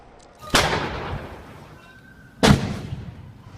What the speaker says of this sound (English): So you hear those two explosions right there.